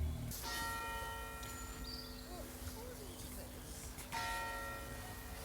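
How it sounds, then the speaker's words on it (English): Church bell at Osborne House on the Isle of Wight rings the noon hour, distant ringing strokes with long sustained tones over faint outdoor ambience and birdsong. "That's the 12 noon bell at Osbourne House."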